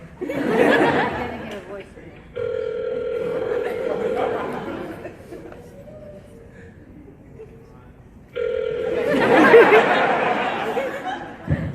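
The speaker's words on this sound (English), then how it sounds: "Answer your phone, mommy." A phone rings over a speakerphone call, two long steady tones separated by a pause, while laughter and chatter from a convention Q&A audience carry on around it.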